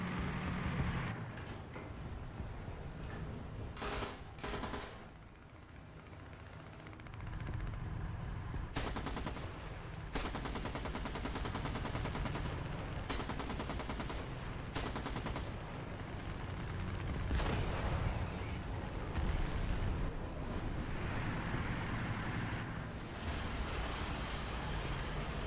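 Sustained machine gun fire from attacking aircraft in the tank battle game War Thunder, with long loud rattling bursts broken by brief gaps, dense and continuous over heavy battle rumble.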